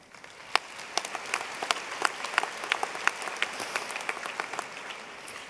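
Audience at a high school graduation ceremony claps in scattered, uneven applause, individual sharp claps standing out over a steady patter, moderately distant and with no talk.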